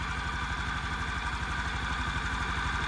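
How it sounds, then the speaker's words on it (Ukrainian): A 2019 Suzuki Address 125 scooter engine idles steadily with an even, rapid low putter, nearby and moderately quiet, no voices. "Дуже м'яко, тихо працює сам двигун"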